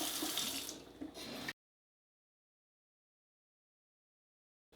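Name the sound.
tap water filling a bottle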